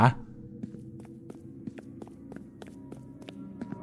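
Rhythmic footsteps in the Roblox horror game The Intruder, set in a mineshaft, tapping steadily at a quick walking or running pace over a low droning game ambience after a brief thump at the start.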